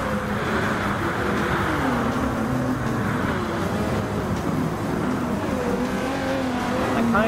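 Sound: race cars lapping Le Mans in video game Gran Turismo Sport

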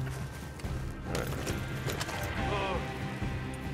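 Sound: horse hooves clip-clopping in a video game (Red Dead Redemption 2, Moonshiner)

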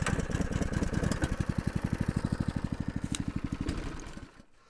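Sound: engine of a small motorized transport running

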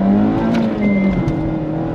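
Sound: 2024 Mazda MX5 car engine while driving

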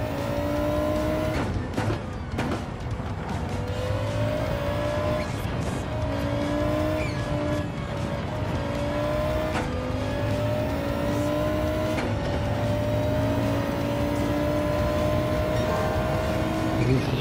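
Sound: rally car accelerating in Gran Turismo 7 video game

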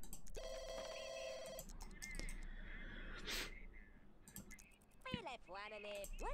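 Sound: telephone ringing in The Sims 2 video game

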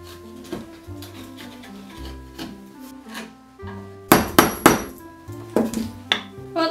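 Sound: 5/8 chisel cutting a mortise in 2x6 lumber

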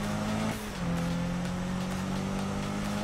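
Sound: car engine driving in the video game Need for Speed

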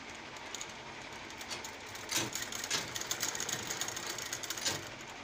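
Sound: sewing machine stitching after tension adjustment

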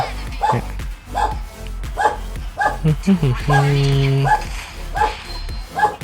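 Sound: dog barking

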